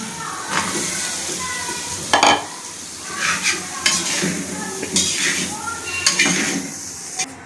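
Potatoes going into a pan for samosa filling and being stirred, a steady sizzle with scraping and clanking bursts from the utensil, close and fairly loud, with a voice talking over it.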